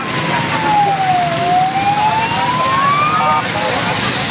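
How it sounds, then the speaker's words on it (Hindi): A police vehicle siren wails in a slow falling then rising sweep, loud and close, over heavy rain and traffic noise in Rawalpindi. "हूटर और सायरन बजाए जा रहे हैं"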